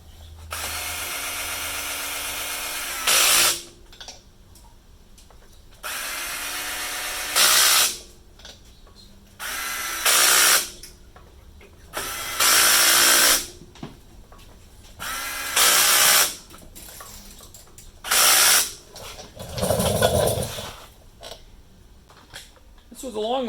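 A cordless drill set to low torque drives a cut-off Allen wrench during Dana 44 axle work, firing in repeated short whirring bursts of a second or two separated by pauses, loud and close, with speech in the gaps.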